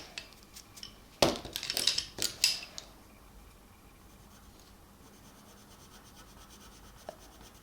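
Graphite pencil line being lightly erased on a kingfisher drawing, a short burst of scratchy rubbing strokes and a few clicks close up, then a quiet background.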